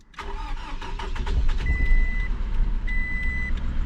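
A 2010 Scion car engine cranks and fires up, settling into a steady running idle close by, with short repeated electronic warning tones chiming over the engine noise.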